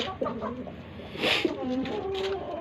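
A backyard chicken calls a few times in short, faint, tonal notes against a quiet outdoor background, with no one speaking.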